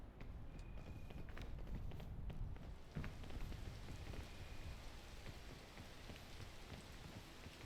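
Steady rain falls in the mountain-climbing video game PEAK, a continuous close hiss of drops and patter with a few faint clicks and no talking.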